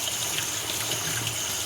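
Running water rinsing bitter gourd pieces in a colander, a steady, hissing gush of tap water spattering over the vegetables, close and continuous with no voices.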